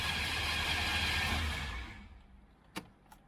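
An old car's engine that sat for about 12 years cranks over on a fresh battery, a steady whirring spin that keeps going, then winds down and stops, followed by a couple of faint clicks.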